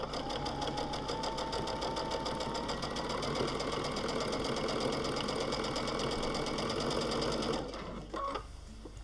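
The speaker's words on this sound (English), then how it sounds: "I'm just going to sew backwards and forwards across the line." A sewing machine stitches back and forth across a tiger appliqué on a quilt-as-you-go block, its fast, even mechanical chatter running steadily for several seconds before slowing and stopping.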